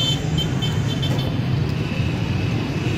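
A Honda Civic pulling away on a road, its steady engine and tyre rumble continuous and fairly close, set against constant traffic noise with no pauses.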